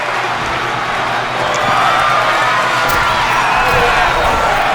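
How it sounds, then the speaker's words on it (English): A wrestling crowd chants "Fight forever" in a big arena, a loud, dense wall of voices that swells slightly louder partway through and holds steady. "And you can hear the crowd chanting, "Fight forever,""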